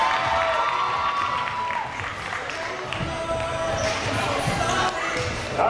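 Kids' basketball game in the Dominican Republic, with a gym crowd cheering and shouting continuously while a ball bounces on the court, steady and fairly loud throughout.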